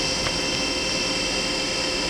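A Hyundai-WIA vertical machining center runs its spindle with a steady, fairly quiet mechanical whir. A constant high whine sits over a broad even hum, with no speech.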